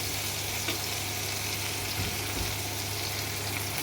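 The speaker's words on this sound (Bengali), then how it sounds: "চিংড়ি মাছটা লাল লাল করে ভাজা হয়ে গেছে।" Shrimp frying in a pan with potatoes on a village kitchen stove, a steady close sizzle with soft popping and faint stirring scrapes, no voices.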